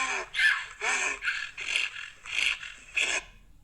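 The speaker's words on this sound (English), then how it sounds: "this is the sound of a donkey. A donkey brays." A donkey brays in a series of harsh, rasping bursts with a rhythmic alternating pattern, moderately close and fairly quiet.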